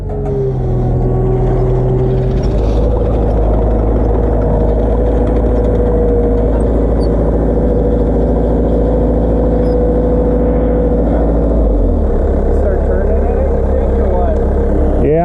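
A truck engine idles steadily at a racetrack during track maintenance work, its low drone loud and continuous, briefly rising as it revs before settling and shifting tone near the end.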